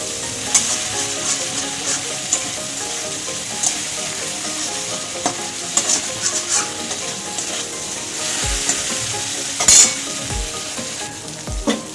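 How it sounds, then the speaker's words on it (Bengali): Shrimp sizzle and crackle in hot oil in a pan, with a continuous frying hiss punctuated by occasional sharp clinks and scrapes of stirring. "চিংড়ি মাছ ভাজা হয়ে গেছে এবার তুলে নেব"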